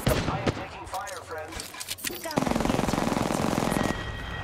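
Rapid MP5 machine gun fire in the Apex Legends video game, a fast, even stream of close, loud shots that follows a few earlier bursts, with someone speaking over the first part.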